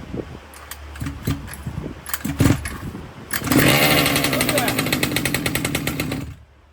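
Redcat 1/5 scale RC gas engine pull-started with the choke on: a few sharp cord pulls give brief rasps, then the small two-stroke catches and runs loud and steady, buzzing close up for about three seconds before cutting off.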